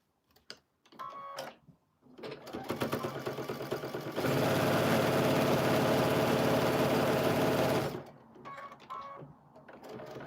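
A sewing machine runs in stuttering bursts, then settles into a steady, loud whirring stitch for several seconds before stopping, with brief start-stop runs on either side.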